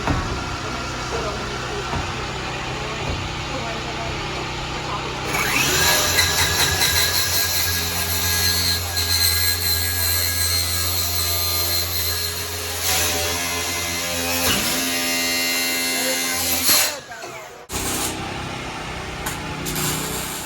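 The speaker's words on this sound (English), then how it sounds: "that skill saw just fits right up in there, makes the cut right through" A skill saw mounted in a jig cuts through a school bus roof during a roof raise, a loud sustained whine starting a few seconds in and stopping abruptly, with people talking underneath.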